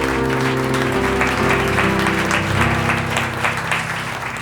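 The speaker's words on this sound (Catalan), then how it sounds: "Un aplaudiment per la pregunta gener." Audience applause after a quiz question on a Catalan book-talk show, steady clapping throughout, mixed under a sustained musical jingle with held tones.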